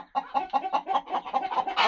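A hen clucks in a quick, steady series of short throaty notes, close and clear, with no talk over it.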